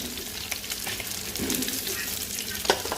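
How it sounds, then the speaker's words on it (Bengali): Hilsa fish pieces fry in hot oil on a gas stove, giving a continuous close sizzle with a few light clicks and stirring taps throughout. "এখন তো এটা গ্যাসের চুলায় দিয়ে আমি ইলিশ মাছগুলো ভাজবো"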